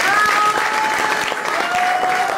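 Steady, dense applause from an audience fills an award ceremony hall in Bogotá, with a few thin whistles riding over the clapping throughout.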